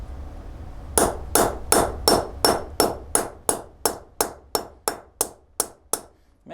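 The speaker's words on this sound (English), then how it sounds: "then we're just going to hammer it down," A hammer strikes a piece laid over fabric on a concrete floor, about fifteen sharp, evenly spaced blows that ring briefly, starting after a second of quiet.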